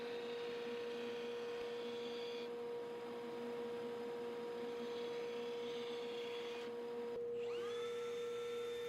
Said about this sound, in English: hit it on the little edge sander just to fine tune that cut